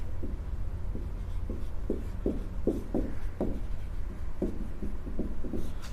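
Chalk or marker taps and scratches out a question number on a classroom board during a Class 10 maths lesson, a string of short, close strokes in fairly even rhythm against a steady room hiss.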